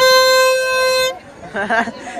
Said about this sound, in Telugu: ట్రైన్ వచ్చినప్పుడు హారన్ కొడతారు కదా, అట్లానే ఉంది అది